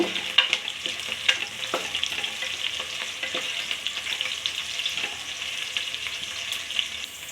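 Sliced onions for biryani rice stirred and frying in a pan, a steady hissing sizzle broken by soft scraping strokes of the spoon, close and moderately quiet.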